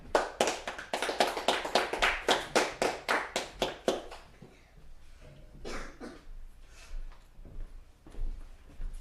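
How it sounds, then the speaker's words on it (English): An audience claps in a tight, quick, evenly spaced rhythm for about four seconds at a brotherhood class meeting, then trails off into a few sparse, softer claps. "All right, clap it up."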